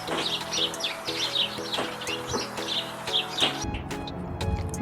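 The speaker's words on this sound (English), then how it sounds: "robin" Robin song in short bright chirping phrases, repeated with brief pauses, mid-distance over a steady low background hum that drops out near the end.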